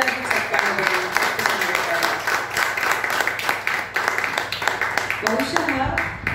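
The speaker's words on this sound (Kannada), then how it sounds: "ಸಾಧ್ಯವಾದಷ್ಟು ಜೋರಾಗಿ ಚಪ್ಪಾಳೆ ಬರಲಿ" An audience applauds at a live folk and light music concert, a dense, sustained clapping that fills the whole stretch with a voice faintly underneath.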